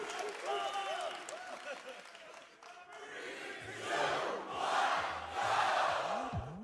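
Live audience at the Super Mario Maker 2 Invitational esports event roaring and cheering in swelling waves, loud and close, over game music and sound effects.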